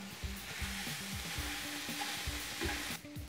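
Sausage fries in a pan with a steady, busy sizzle that runs the whole time, broken by repeated scraping stirs at an even pace, close and alone with no talking.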